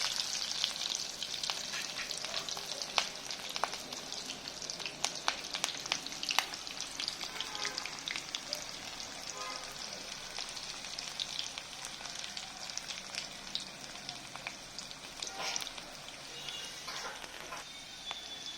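Panch phoron spices and onions with split green chillies fry in oil for Gorkha chutney, making a continuous soft crackling sizzle with scattered pops and occasional stirring, fairly quiet throughout.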